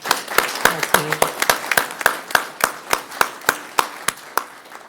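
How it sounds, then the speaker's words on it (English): A city council meeting audience claps for the police department, with sharp, evenly spaced claps that sound like only a few people, each one ringing briefly in the room, plus a faint murmur underneath. "Can we get a round of applause for"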